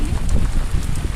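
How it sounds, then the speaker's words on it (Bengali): Heavy rain falling on the Shitalakshya river during a boat crossing, a dense close hiss of rain mixed with wind rumble on the microphone, continuous and loud. "প্রচুর বৃষ্টি আমরা নদীর মাঝখানে পুরো ভিজা শেষ"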